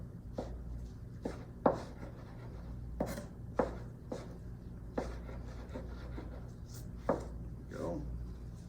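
A knife cubes slices on a cutting board with about ten sharp, separate chops at an uneven pace, close but fairly quiet over a low room hum.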